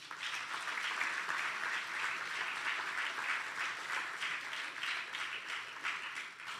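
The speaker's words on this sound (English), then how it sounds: "You can clap for that" An audience at an Alpha Phi Alpha fraternity Honours Day convocation claps steadily in a sustained round of applause, moderately loud and continuous throughout.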